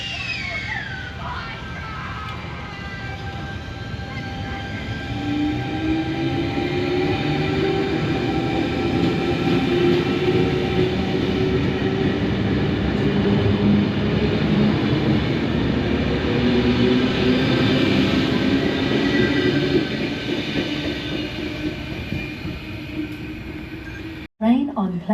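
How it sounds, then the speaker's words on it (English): A Sydney train pulls away from the platform at Schofields station, a loud rising rumble of wheels and motors with whining tones building and then fading as the cars roll past nearby; a voice speaks briefly. "I'm just gonna head out and we'll see the train depart."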